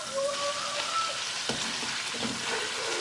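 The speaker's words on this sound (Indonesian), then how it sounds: "kita mau goreng terlebih dahulu cuminya" Squid pieces fry in hot oil in a home kitchen, giving a steady, dense sizzle and crackle with occasional stirring, close and moderately loud throughout.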